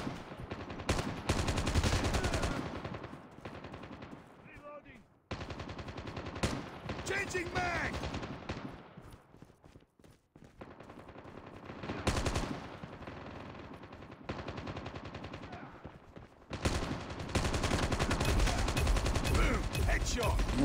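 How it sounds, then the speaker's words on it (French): Gunfire from the mobile shooter game Call of Duty Mobile comes in long, loud bursts of rapid automatic shots, broken by brief pauses. Someone talks at times over the shooting. "Voilà, ça c'est du tir."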